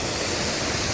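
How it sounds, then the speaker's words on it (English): Waterfall of the Black River in Chapada Diamantina, Bahia, Brazil, a steady broadband roar of falling water, loud and close, with no voices. "Waterfall"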